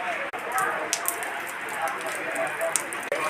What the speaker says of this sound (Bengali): বৃষ্টি নেমে গেছে অলরেডি, দেখেন।